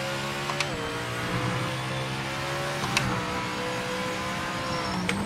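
A Cadillac LMDh hypercar engine races around Bathurst in a racing game, holding a high whine that climbs steadily, drops sharply on three gear shifts, and then climbs again, loud and close.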